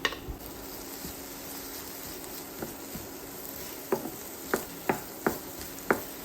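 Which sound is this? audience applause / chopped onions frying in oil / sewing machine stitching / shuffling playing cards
chopped onions frying in oil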